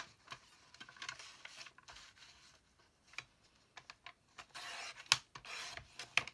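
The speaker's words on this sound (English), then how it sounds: "The first thing I think I want to do is trim off the margins. So I'm going to grab my little trimmer." A small paper trimmer slices the margins off a page, giving quiet scratchy sliding and clicking strokes up close, with a few sharp ticks toward the end.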